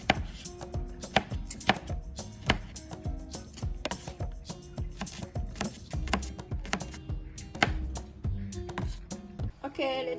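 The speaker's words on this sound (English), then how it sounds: "next, we're gonna cut our red onion" A knife chops red onion on a cutting board in a home kitchen, giving a rapid run of sharp, close, irregular board knocks over about ten seconds with soft background noise and no talking.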